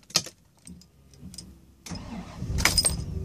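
Faint jingling and clicks of keys, then a 1988 Bentley Mulsanne S engine cranks and catches, settling into a steady close rumble.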